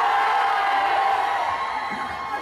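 A large indoor crowd of Star Wars fans at a convention contest shouts and cheers loudly and continuously, a dense roar of voices and whoops that fades slightly toward the end.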